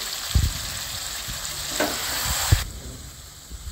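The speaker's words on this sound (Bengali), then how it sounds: "এবারে আমি ভালো করে 2-3 মিনিট কষিয়ে নেব" Yogurt-marinated chicken sautéing in a pan with a dense, steady hiss of frying and a few dull knocks and scrapes from stirring, close and loud, with no speech.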